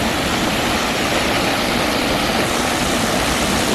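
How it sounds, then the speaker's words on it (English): Geroldsau waterfall in Germany's Black Forest pours with a loud, steady, unbroken roar close by, with no voices over it. "This looks more like a waterfall."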